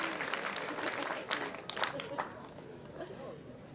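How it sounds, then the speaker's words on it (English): Clapping from the audience at a high school graduation ceremony, moderately distant and fading over a few seconds, with scattered cheers and crowd chatter beneath. "Let's give another round of applause for Loera"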